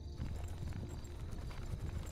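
Horses' hooves clip-clop steadily in Warcraft III: Reign of Chaos, a continuous close trot over a low rumbling game background.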